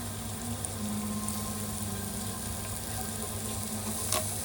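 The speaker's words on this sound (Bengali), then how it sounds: "সব আলু ছেড়ে দিলাম।" Washed potatoes, with green chilli and nigella seeds in the oil, sizzle in a hot karahi as a continuous dense hiss, steady and moderately quiet, with no voices.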